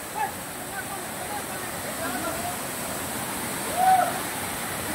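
Durgapadu waterfall in Rayagada pours in a steady, broad roar of falling water, continuous and moderately loud throughout with a slight swell near the end.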